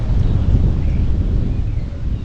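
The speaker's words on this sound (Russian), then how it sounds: "Ветер лодку сдувает." Gusty wind roars into the microphone on a lake while fishing from a boat, a steady low rumbling buffet with no voices.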